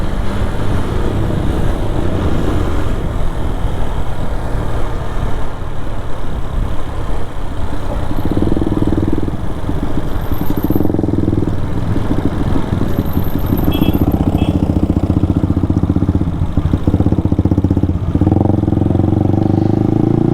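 A motorcycle engine runs loud and close for a long stretch during bike stunts, idling and revving in uneven surges.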